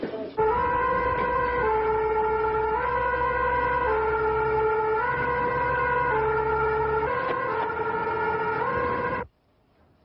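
A French fire engine (FPTA) sets off on a call. Its two-tone siren wails loud and close for about nine seconds over the rumble of its engine, then cuts off abruptly.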